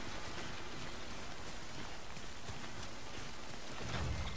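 Steady rain in the video game Death Stranding, a dense, constant hiss of falling water that continues without a break and swells slightly near the end.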